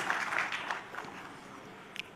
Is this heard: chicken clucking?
no